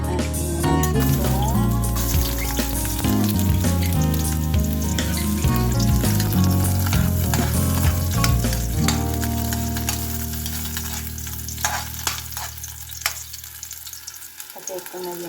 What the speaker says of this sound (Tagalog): Nagpainit ako ng ating hipon.